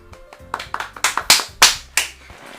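A short burst of clapping in the video game Doki Doki Literature Club, quick uneven claps building to several louder, sharper ones near the end, with faint game music underneath.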